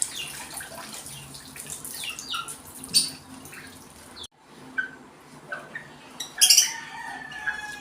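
Young Sweater Gilmore gamefowl, close to a kilo each, are bathed with running water, with splashing and pouring and occasional clucks and squawks from the birds at close range.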